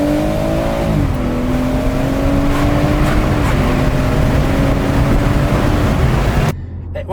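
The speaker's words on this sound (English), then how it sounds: "I'll do an acceleration with manual shift," A 2018 BMW M140i Shadow Edition with a 3-litre engine accelerates hard in sports mode with manual shifts, heard with the windows down. The loud engine drone rises in pitch, dips at each gearchange and climbs again, then cuts off abruptly near the end.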